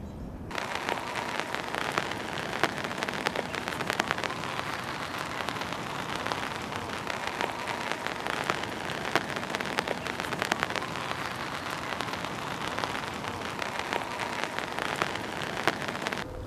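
Rain falling on an umbrella during a fishing session, a steady dense patter close overhead with scattered heavier drops, running continuously with no talk.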